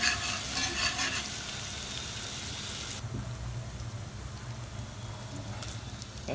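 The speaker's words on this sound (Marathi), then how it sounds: "अद्रक लसूण पेस्ट ही खलबट कुटलेली चांगली फ्राय करून घ्यायचंय" Crushed ginger-garlic paste fries in a pan for a chicken dish, giving a steady close sizzle with stirring scrapes. The sizzle is bright and dense at first, then settles into a softer, continuous crackle.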